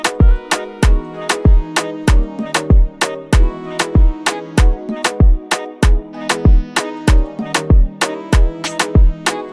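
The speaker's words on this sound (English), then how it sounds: "Then we get some perks in there like a conga and a different snare for an accent" An afropop percussion groove with congas and an accent snare rides over steady kick hits, forming a bouncy, evenly pulsing pattern with sharp transients throughout, loud and close with no voices.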